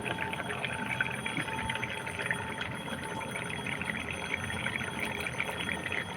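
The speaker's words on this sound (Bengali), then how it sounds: "একটু ঘি অ্যাড করলাম," A spoonful of ghee poured into a curry cooking in the pan gives a steady, soft liquid pouring and sizzling hiss that holds evenly throughout at close range.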